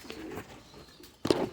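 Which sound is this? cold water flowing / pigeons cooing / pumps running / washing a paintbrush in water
pigeons cooing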